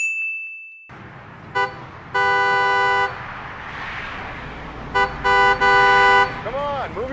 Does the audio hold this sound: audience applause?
no